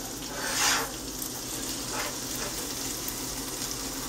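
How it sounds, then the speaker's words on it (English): Street-food items frying in a pan with butter and beer give a steady, close sizzle and crackle with a brief louder hiss near the start and softer bubbling after. "just put a pat of butter in and put some beer in them"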